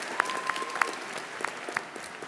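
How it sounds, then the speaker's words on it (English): A convocation audience at Saskatchewan Polytechnic in Saskatoon claps for the presentation of graduates, a moderate steady patter of applause with several sharper individual claps standing out near the front. "Yeah, we can clap for that."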